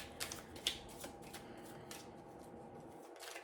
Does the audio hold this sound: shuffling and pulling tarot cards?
yes